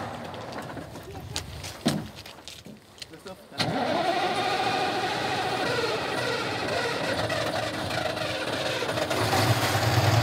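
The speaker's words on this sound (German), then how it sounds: "Da ist ein Fahrzeug." A vehicle's engine runs steadily somewhere out in Siberia, a sustained broad rumble starting abruptly after a few seconds of quieter sound with speech, then holding loud and continuous to the end.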